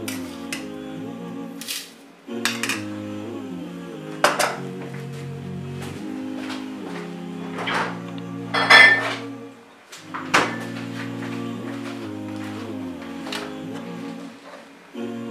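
A metal spoon clinks and taps against a dish as sugar goes in for a banana and strawberry milkshake, with a string of sharp, separate ringing knocks at irregular intervals and quiet gaps between them.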